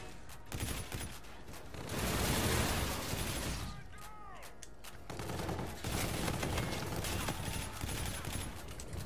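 Rapid automatic gunfire from a weapon in the video game Infinite Warfare, with dense bursts of shots filling the clip amid other in-game battle noise.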